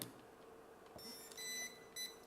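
A Scubatector waterproof metal detector is switched on and gives a few short electronic beeps, quiet and close, over a faint background hiss.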